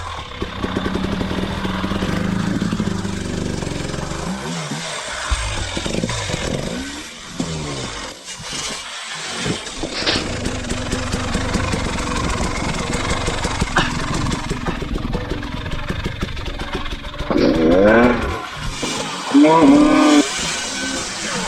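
A dirt bike without electric start is kicked and revved on a hard enduro trail, the engine sputtering and roaring in uneven bursts close by, with a rider talking over it.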